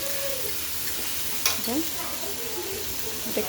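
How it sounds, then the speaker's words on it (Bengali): Tomatoes frying in a pan with turmeric and salt: a continuous close sizzle with a few scraping stirs and clacks of a utensil, and faint voices in the background. "টমেটোটা এখন ভাজতে লাগবে"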